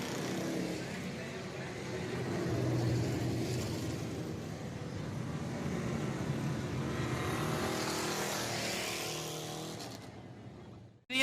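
Race cars roar around the track at Southern Raceway during a live race, making a dense, continuous engine drone that holds steady and loud, then cuts off abruptly at the end.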